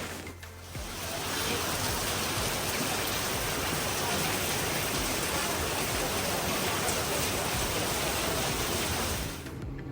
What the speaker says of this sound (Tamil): நல்லாவே சூப்பராக மழை வந்துருச்சு